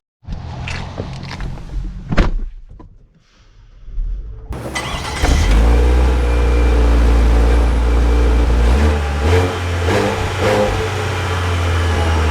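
A 2024 GMC Acadia Denali SUV starts up after a quiet pause, then its engine hums and rises as it pulls away and accelerates, a steady close drone with shifting revs.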